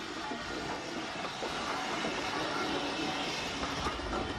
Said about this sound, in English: A train for Hawkhurst calls at the station.